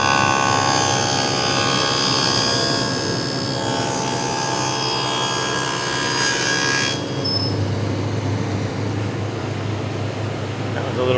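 A table saw cuts a stopped dado in wood, with the workpiece guided by the miter gauge and fence against a stop block. The motor holds a loud, steady whir throughout, and the tone shifts audibly near the end.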